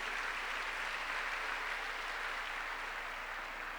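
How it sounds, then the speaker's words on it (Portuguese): A church congregation applauds during a service, producing an even, sustained wash of clapping from many hands that sounds somewhat distant and fairly quiet, with a low hum underneath. "Você pode dar uma salva de palmas para Jesus?"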